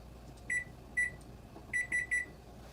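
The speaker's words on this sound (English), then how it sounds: "going to give it 6 minutes and 66 seconds in the microwave" A microwave oven emits short tonal beeps, a pair followed by a quick triple, moderately loud and close over a faint steady hum, with no talking.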